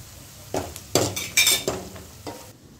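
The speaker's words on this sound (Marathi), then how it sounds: "आता या मोठ्या गॅसवर चांगलं याला फ्राय करून घेऊ" Chicken frying over high gas with garlic, ginger and Kashmiri chili, with several scraping stirs and metal clinks of a spoon in the pan over a continuous sizzle and no talking.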